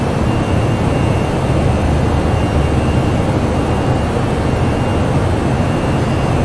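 Steady, loud roar of Toliss A319 jet engines in a flight simulator game, a broad, unchanging rush with a deep rumble beneath and no voices, holding level throughout.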